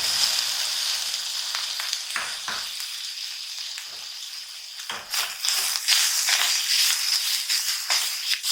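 Grated coconut and powdered jaggery cooking in hot ghee or oil in a pan over a low flame, a steady close sizzle broken by repeated stirring scrapes, louder toward the end.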